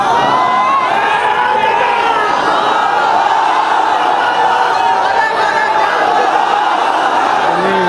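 A large gathering at an Islamic sermon shouts the takbir chant together, a loud dense roar of many voices that holds steady throughout.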